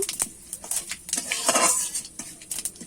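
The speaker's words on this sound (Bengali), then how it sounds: "ফোড়নে দিয়ে দেবো গোটা জিরে আর একটা তেজপাতা ফোড়নটা আমি একটু মেরে নেব" Whole cumin and a bay leaf tempering in a pan before a grass carp fish bhuna, heard mainly as a metal spoon clinking and scraping against the pan in quick bursts over a faint sizzle, close and moderately quiet, with no speech.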